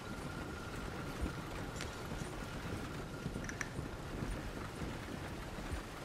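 Horse hooves clop in an irregular rhythm on a road in Red Dead Redemption 2, fairly faint beneath a constant wind-like rush, with no voices.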